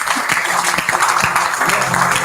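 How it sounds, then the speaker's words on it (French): A church congregation claps together during a sermon, a dense burst of applause heard close and fairly loud throughout. "Et puis vous, applaudissez pour Jésus."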